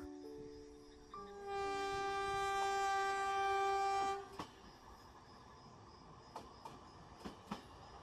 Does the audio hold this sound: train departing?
yes